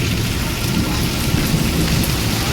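Loud, dense roar of heavy rain pouring down, with deep rumbles of thunder rolling underneath, steady throughout.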